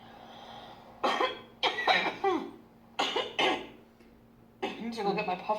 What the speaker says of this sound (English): I just need to cough it out